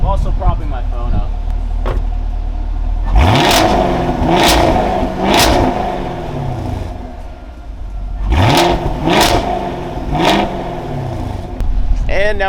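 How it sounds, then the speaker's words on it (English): Ford Mustang GT500 with stock exhaust revved hard in repeated bursts, two groups of sharp roaring throttle blips rising and falling over a low idle, loud and close. "I'm gonna jump in the car and rev it up so you guys can get an idea of what this stock exhaust sounds like"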